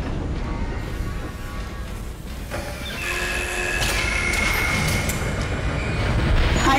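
A tram rolls through the space station in the video game Dead Space. It makes a loud, steady mechanical rumble with a rail-like drone, and a bright tonal whine rises and swells in the second half.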